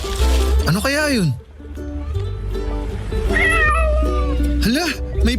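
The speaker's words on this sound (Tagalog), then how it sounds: "Hala, may pusa!" A cat meows loudly and close by, with drawn-out, wavering cries and a second call near the end, all over a steady background hum.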